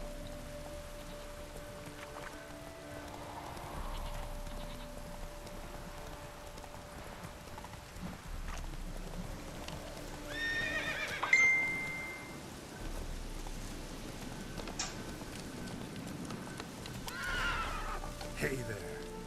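Roach, a horse in The Witcher 3, clip-clops steadily on hooves with a neigh or whinny rising around the middle, over a soft rain-like background with game music.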